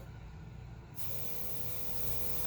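An airbrush releases a soft, steady hiss of spray onto a nail art stencil while painting a rose with Airgel, continuous and close with a faint background hum.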